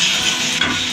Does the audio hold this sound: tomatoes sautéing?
yes